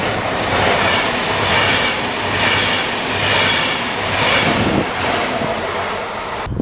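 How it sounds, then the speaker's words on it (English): A train heads toward Zurich through the Swiss Alps, a steady rushing roar with low rumble, swelling and ebbing in waves across the whole stretch and alone with no talk. "And another train going to Zurich."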